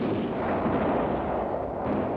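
Artillery fire from field and medium artillery regiments with a mortar group at night, heard as a dense, continuous roar of rumbling booms close by, with no talk.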